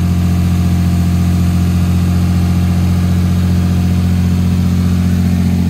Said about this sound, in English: The exhaust also sounds a little bit loud.